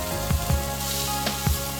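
Liver sizzles steadily on a hot grill, with a few soft thumps and scrapes as the pieces are turned, close and continuous with no talking.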